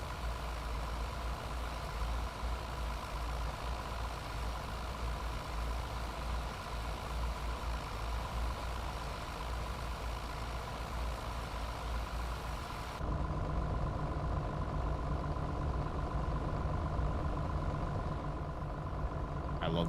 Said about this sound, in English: I love the sound of this tractor.